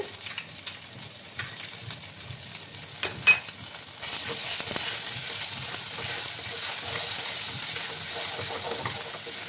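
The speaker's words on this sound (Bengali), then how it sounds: "ভালো করে আমি একটু ভাজবো।" Paste of ginger, garlic and ripe chilli frying in a pan for a prawn and cucumber dish, a faint crackle that becomes a steady soft sizzle midway, with light stirring knocks.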